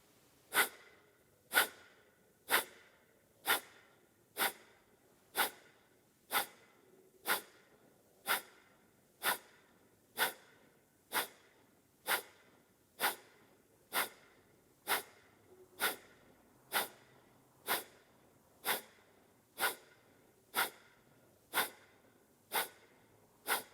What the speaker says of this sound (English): And take a few breaths.